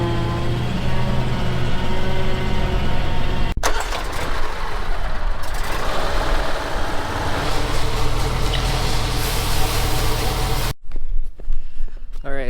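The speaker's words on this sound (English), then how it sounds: "These trucks kind of have a tendency to sound like they're fighting for their life every mile they travel." A loaded silage truck on a sheep farm groans and drones as it drives, its engine and drivetrain straining loudly and continuously with rattles, then cutting off abruptly near the end.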